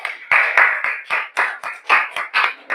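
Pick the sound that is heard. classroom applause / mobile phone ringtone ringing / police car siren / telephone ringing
classroom applause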